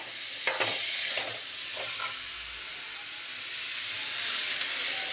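Onion and garlic paste fries in a hot pan with a continuous loud sizzle and hiss, stirred now and then with faint scraping taps.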